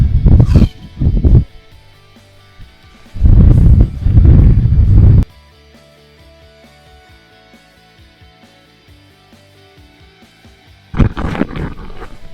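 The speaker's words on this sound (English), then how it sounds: "It's pretty windy now." Loud, rumbling bursts of wind buffet the microphone in several gusts on a stormy Cairngorm mountain ridge, with quieter stretches of low background noise between them.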